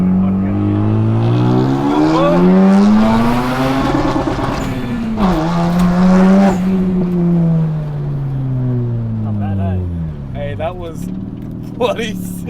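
A Mazda RX-7 FD with a sequential twin-turbo rotary engine accelerates hard, its pitch climbing through gears with shifts and a brief dip before pulling again, loud and close, with faint tyre noise near the end.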